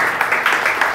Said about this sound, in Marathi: या त्या जोरदार टाळ्या वाजू परमेश्वरासाठी.